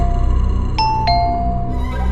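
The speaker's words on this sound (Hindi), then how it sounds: "उसने हिम्मत जुटाई और डोरबेल बजाया" A doorbell ringing with a clear two-tone ding-dong, the chimes close and distinct over a low droning background hum and soft music.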